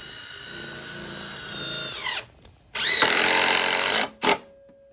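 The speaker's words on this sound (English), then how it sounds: "Pop a couple screws in here." Power drill driving screws into a wooden greenhouse bench frame, two sharp whining bursts, the first winding down as the screw seats and the second loud and steady before a brief final blip, close up with no talking.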